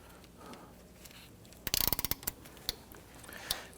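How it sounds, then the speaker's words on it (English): A ratchet with a 12mm socket on an extension loosens the battery clamp bolt on a 2011-2015 Kia Sorento 2.4L, giving a quick close burst of sharp clicking followed by a few isolated clicks. "you can use your ratchet like I'm doing"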